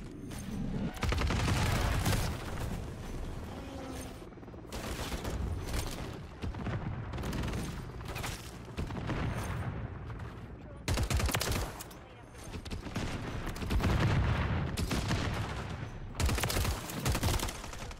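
Dense, continuous gunfire from Modern Warfare 3 with rapid automatic bursts and heavy booms, loud and sustained and broken only by brief pauses, while a voice talks now and then underneath.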